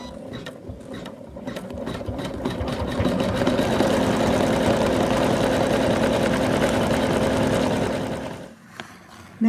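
An embroidery machine stitches face fabric onto a Santa doll with a rapid, even mechanical chatter that builds and holds steady, then stops near the end, leaving brief clicks.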